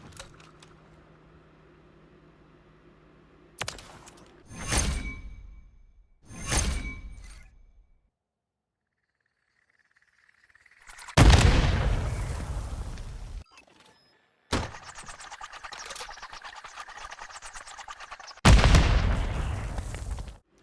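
Gunfire in Modern Warfare III on the Derail map, heard as several loud, sharp bursts spread across the stretch with gaps of near silence between them. One longer, noisier volley comes near the middle. No voices are present.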